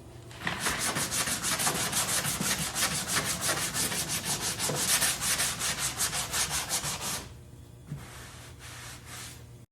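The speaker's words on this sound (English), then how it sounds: "we're going to go over it here with this 80 grit" Hand-sanding the body filler on a 1958 Chevy with 80 grit sandpaper, in rapid, rhythmic back-and-forth rasping strokes, loud and close, that stop abruptly near the end, leaving quiet with a faint bump.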